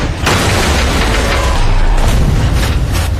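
A mortar shot blasting a tank's track in an action film sounds as a loud, sustained explosive roar with heavy low rumble and bursts of debris filling the whole moment.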